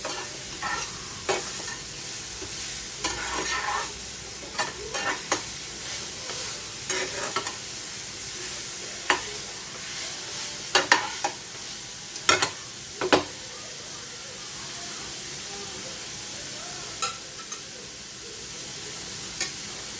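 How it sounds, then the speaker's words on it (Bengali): Beetroot fries in a pan over a low gas flame, a constant soft sizzle broken by repeated sharp scrapes and clacks of a spatula stirring, irregular and close, with no voices. "একটু ভাজা ভাজা করে নেবো।"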